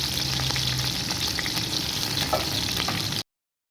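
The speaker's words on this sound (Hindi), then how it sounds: "प्याज़ों को जो है मैंने हल्का सा फ्राई कर लिया" Two medium chopped onions fry in a karahi until lightly browned, giving a loud, steady sizzle with a faint low hum early on, and then it cuts off abruptly.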